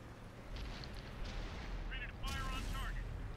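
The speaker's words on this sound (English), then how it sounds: "Wow, the artillery is shooting me in the ass." In the World of Tanks video game, artillery fires on a T110E5 tank, giving muffled booms and bursts under a player's excited talk, fairly quiet in the mix.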